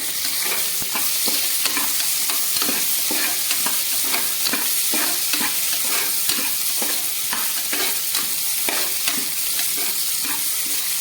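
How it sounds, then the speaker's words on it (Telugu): Onions, green chillies and cumin frying in a pan for veg biryani, a loud continuous sizzle with regular spatula strokes scraping the pan roughly every half-second. "దీనిలో ఆనియన్స్, పచ్చిమిర్చి, జీలకర్ర వేసి బాగా ఫ్రై చేసుకోవాలి."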